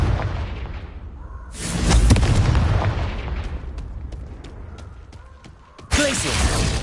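A Confringo fire spell from Hogwarts Legacy bursts with a loud whooshing blast near the start, a second sharp explosive burst landing close by toward the end over continuous game ambience.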